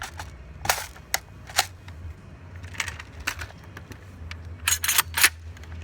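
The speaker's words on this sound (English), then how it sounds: "We're gonna be shooting this target with 20 gram BBs" An airsoft gun fires 20-gram BBs at a target on an outdoor range, a string of sharp, close snapping shots in an irregular rhythm over a low steady hum.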